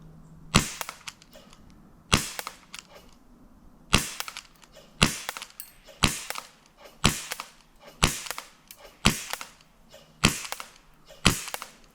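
Shots from a non-blowback airsoft gun hit a target at a steady pace, about nine crisp snaps spaced roughly a second apart over a quiet background.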